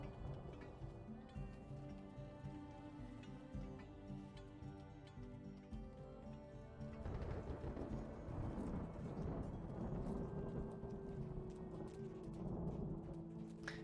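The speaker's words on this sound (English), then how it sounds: "This game has good thunder sounds." Thunderstorm in the empire-building game Songs of Syx: steady rain hiss with low thunder rumbling throughout, swelling into a louder, fuller roll about halfway through, with no talk over it.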